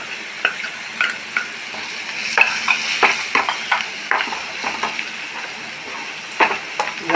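Chili flakes and salt fry in a pan with a steady close sizzle, broken by frequent crackles and scraping strokes of a stirring spoon.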